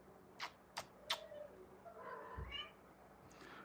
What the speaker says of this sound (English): the other cat now wants to get in